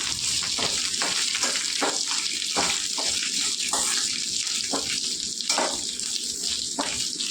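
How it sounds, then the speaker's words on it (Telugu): Dry red chillies fry in a pan of oil for a wood apple chutney, giving a steady close sizzle broken by repeated sharp scraping clicks as they are stirred. "ఇప్పుడు చూసారా చాలా తొందరగా వేగిపోయాయి ఎండి మిరపకాయలు"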